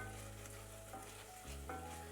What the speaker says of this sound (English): we also want to fry it, my friends, to develop that flavor so it's just not raw pepper paste inside of my final stew today